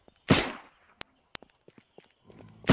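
Two sharp, isolated cracks from a .22 rifle in the survival game Miscreated, a short interval apart. Softer footstep-like taps come between them and louder rushing bursts sit at each end of the shot sequence.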